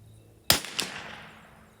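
A single sharp rifle shot fired with Eley Match ammunition at a paper target, close and crisp, with a quick echo and a fading tail.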